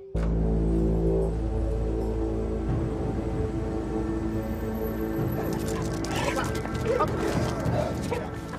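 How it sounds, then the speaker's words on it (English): Specialist sniffer dogs searching Aylesbury prison for drugs and contraband give repeated barks and yips over a steady, loud mechanical hum, with noisier bursts of activity toward the end. "Specialist dogs have been called into Aylesbury prison to hunt for drugs and other contraband items"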